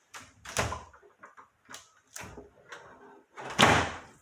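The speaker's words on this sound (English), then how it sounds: "I kind of almost ripped the door off there" A small wooden door in an abandoned college building yanked hard and rattling open, a cluster of loud knocks and scraping bangs spread across a few seconds, ending in a sharp heavy clatter close by.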